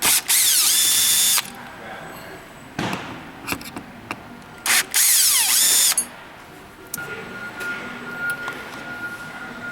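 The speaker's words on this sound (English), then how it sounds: "next we're going to use a Phillips head screwdriver to remove the two screws from the front of the left-hand bracket" A powered Phillips screwdriver removes screws from the front of the left-hand bracket on a Perfect Chair's front stretcher bar. The motor whirs loud and near in a few separate bursts, with quieter clicks and handling noises between them.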